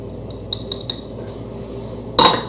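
A spoon clinks against a bowl while baking powder is stirred into chocolate cookie dough: three quick, light clinks, then a louder ringing clink after a short pause, over a quiet room.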